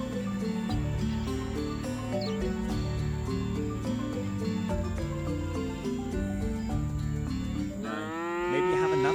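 Cow in the video game Scott Whiskers mooing as a long, low, sustained call over game background music, with a rising whistling sweep near the end; no speech.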